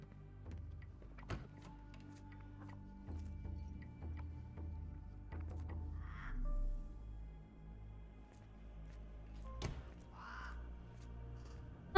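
In the Sherlock Holmes: The Awakened video game, a crow caws twice, faint and somewhat distant, set against a low, quiet ambient drone with a few soft thuds and no voices.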